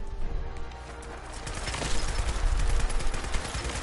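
Pistol gunfire in a sci-fi action video game: a loose run of sharp, rapid shots over a dense, rumbling game soundscape, growing louder toward the end.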